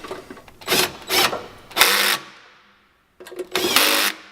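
Impact gun tightening nuts on studs while replacing a heating element, several short loud rattling bursts separated by pauses, including a longer gap before the final burst.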